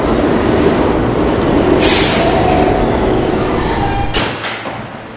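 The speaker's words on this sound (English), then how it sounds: "This is a Potatoburg-bound D train." A Potatoburg-bound New York subway D train of R160B cars runs with a steady loud rumble and wheel roar, brief bright hisses near two and four seconds, then the noise eases slightly toward the end.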